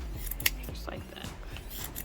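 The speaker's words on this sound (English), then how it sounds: "You're gonna find the loops on each side and you're just gonna cut them" Scissors snip through looped yarn on a handmade pom-pom, a few quick close cutting clicks and soft rubbing of the yarn.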